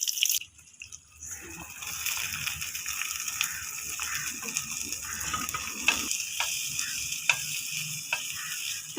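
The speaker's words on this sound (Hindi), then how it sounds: "तो प्याज डालने के बाद अच्छे से हम प्याज को भून लेते हैं।" Chopped onions frying in ghee, with a steady close sizzle and occasional sharp stirring clicks after a brief quiet start.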